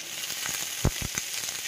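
Cumin seeds sizzling in a little hot oil at the start of cooking palak paneer, a steady close hiss of frying with a few soft pops and stirring knocks.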